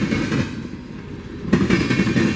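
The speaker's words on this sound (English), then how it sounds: "unit train with tank cars" A freight unit train made up of tank cars rolls past close by, a steady rumble and clatter of wheels and railcars that swells louder partway through, with no voices.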